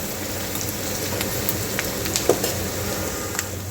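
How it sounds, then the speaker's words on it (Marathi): Chopped onion sautéing in a pan for a wild-greens dish, giving a steady close sizzle with a few scrape and stir clicks scattered through. "इथे कांदा आपल्याला छान परतून घ्यायचा आहे"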